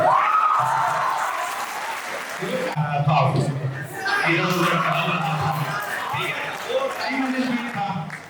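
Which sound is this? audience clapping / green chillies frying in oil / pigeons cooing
audience clapping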